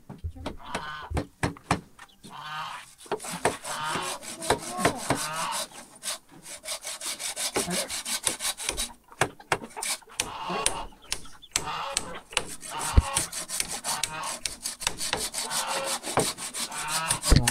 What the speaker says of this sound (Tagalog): Naglalagari kasi tapos nagpupukpuk kaya hindi magkakaintindihan.